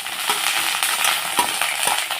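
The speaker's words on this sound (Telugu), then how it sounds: "పచ్చిమిర్చి ఇలా వేగాలి." Green chillies sizzle in hot oil with ginger, garlic, cumin, sesame seeds and tamarind, a steady bright frying hiss broken by occasional stirring scrapes and small pops.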